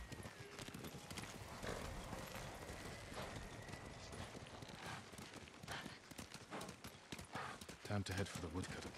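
A horse gallops in the samurai video game Ghost of Tsushima, a steady run of hoof clip-clops under a dense mix of game sound, with a brief whinny-like call near the end.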